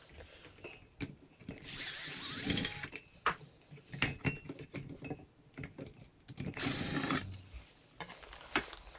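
A ratcheting screwdriver turns screws while a ceiling fan is changed out, giving quick bursts of rapid ratchet clicks and metallic rattles, close by, with short pauses between turns.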